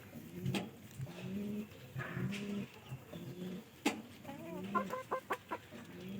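Pigeons coo and call inside their loft, repeated throaty rolling coos close by, with sharp flutters and clucks near the end and no voices.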